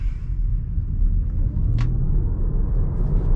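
A 2021 Tesla Model Y dual motor car drives along, a steady low road rumble and tire hum heard from inside the cabin, with no voices.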